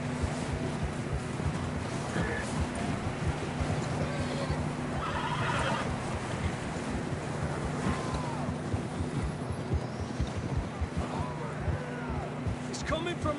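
Horses whinny and clop along in Red Dead Redemption 2, their neighs and hoofbeats blended with game wind and ambience while voices talk over much of it.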